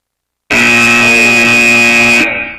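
A loud, sustained end-of-match buzzer at a VEX high school robotics state championship blares steadily for nearly two seconds, then cuts off abruptly and leaves a faint tail.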